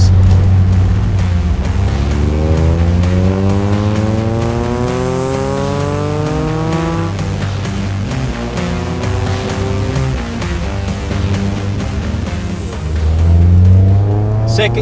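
A lightweight VW Citi Golf 1.8i (Mk1) accelerates hard in second gear, its engine note climbing steadily in pitch toward the redline just past 6,000 rpm, loud and close from inside the car, with someone talking over it.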